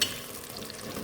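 Onions frying in hot oil in a pan, heard as a brief, steady sizzle with light crackle and no talking.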